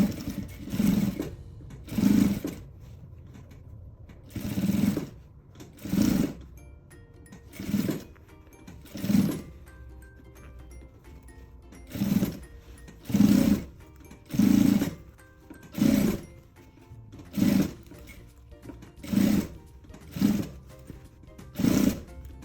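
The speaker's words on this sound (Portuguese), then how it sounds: "vou passar uma costura em toda a volta." A sewing machine runs a seam around a maternity bag in short repeated bursts of fast whirring stitching, each lasting about a second, separated by quiet pauses, close and clear with no speech.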